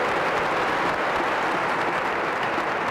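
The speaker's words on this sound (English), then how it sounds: "Please give Taya and John one final round of applause." A crowd at a summer jobs kick-off event applauds steadily, a dense, even wash of clapping from many hands that holds at full strength throughout, with no talk over it.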